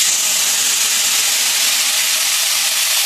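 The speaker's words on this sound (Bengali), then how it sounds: "অল্প সর্ষের তেল দিলাম, লেজাটা একটু ভাজবো।" Hilsa fish tail frying in mustard oil in a wok, giving a steady, loud hiss and sizzle close up with no talk.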